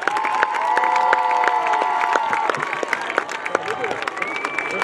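A big crowd cheers, claps and shouts in the stands at a high school homecoming football game at halftime, loud and sustained, with whistles and a sustained horn-like tone mixed in.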